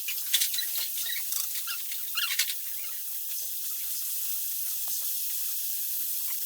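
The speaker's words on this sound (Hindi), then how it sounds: "चिकन को तेज़ आंच पर ही पकाना है" Chicken frying on high flame in a karahi, a bright continuous sizzle with crackling pops scattered through it, close and steady.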